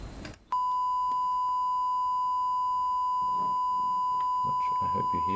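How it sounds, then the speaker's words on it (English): A pure, steady 1 kHz sine tone from a microcontroller starts abruptly after a short burst of noise and holds unbroken, loud and clean, while someone talks faintly underneath in places. "And that should produce a 1 kilohertz sine wave,"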